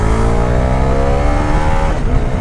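A 2025 Bajaj Dominar 400 motorcycle accelerating hard in second gear, its loud close engine note climbing steadily in pitch before easing near the end, with no talk.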